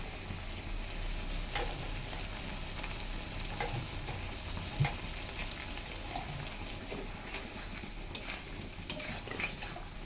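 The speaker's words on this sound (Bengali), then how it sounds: "এখন ভালো করে কষাতে থাকতেছে যতক্ষণ না সয়াবিন থেকে তেল ছাড়ছে" Soybean chunks stir-fry in oil with a spoonful of turmeric, making a continuous soft sizzle and crackle with occasional clinks and scrapes of a spoon against the pan.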